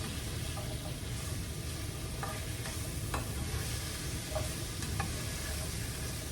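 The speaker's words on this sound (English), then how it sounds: "you're gonna cook this for about 2 more minutes until it gets, and make sure it gets all coated in the garlic and the oil" Green beans fry with garlic in oil with a steady, close sizzle, while faint clicks of stirring in the pan surface now and then.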